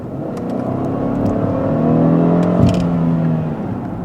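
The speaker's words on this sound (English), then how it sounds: "The Lincoln has Ford's newest 355 horsepower EcoBoost engine" A 2010 Lincoln MKT with a 355 horsepower EcoBoost engine hums and whirs steadily, rising gently in pitch as it pulls, with a brief thump partway through and no voices.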